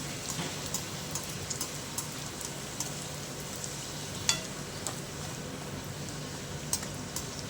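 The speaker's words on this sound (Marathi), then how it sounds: "अशाच प्रकारे आपण बाकी सुद्धा तळून घेऊया" Bhature deep-fry in hot oil, a continuous crackling sizzle with scattered sharper pops and spits, fairly quiet and close, with no one talking.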